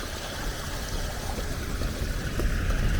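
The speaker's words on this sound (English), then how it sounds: "you can hear and hopefully see the little waterfall" A small waterfall along the coast path at Tintagel gives off a steady broadband rush of splashing water, continuous and fairly close, with no talk over it.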